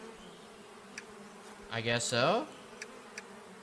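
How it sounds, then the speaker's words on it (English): Bees buzz from a beehive in the beekeeping game APICO: a short, loud swelling drone midway, with faint ticks around it and someone speaking briefly. "So let me open this shit up and put these bees in."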